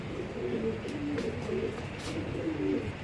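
Racing pigeons of a club bloodline coo steadily and close by, with soft repeated throaty coos layered over a constant low murmur of flock sounds and no talk.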